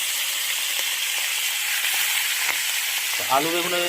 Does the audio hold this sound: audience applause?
no